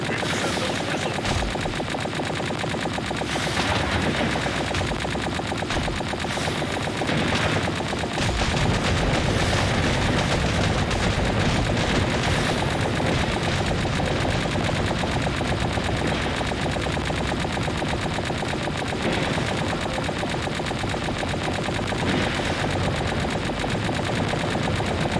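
Rapid automatic gunfire rattles almost nonstop through a Tower of Fantasy battle, dense bursts layered over busy game sounds and music at steady loudness.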